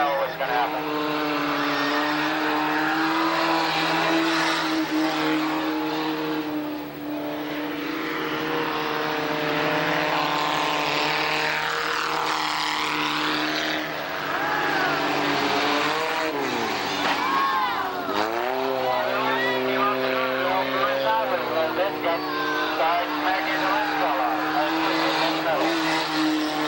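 Race cars racing at Tonopah Speedway, a continuous engine roar rising and falling as cars pass, with tire squeal, loud and sustained under an announcer talking.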